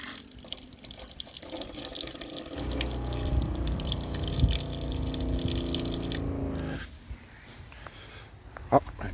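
Antifreeze flows through RV plumbing while the camper is being winterized, a steady gushing rush of liquid from a tap that runs for several seconds and then cuts off, leaving quieter background noise.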